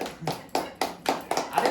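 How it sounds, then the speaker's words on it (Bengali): Several people clap hands together at a birthday party, a steady beat of crisp, close claps roughly every quarter second, with a little background voice activity. "হাততালি দাও, হাততালি দাও"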